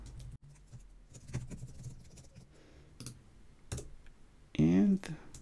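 Typing on a computer keyboard while writing a blog post, a close run of soft, quick key clicks at a moderate level, with a louder burst of clatter near the end.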